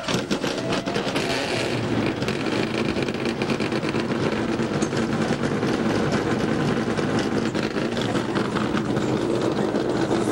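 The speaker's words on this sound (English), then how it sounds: "Drivers, start your engine!" Race car engines rumble together in a dense, steady roar at Lowe's Motor Speedway during a 2001 NASCAR Goody's Dash Series race, loud and continuous with no break.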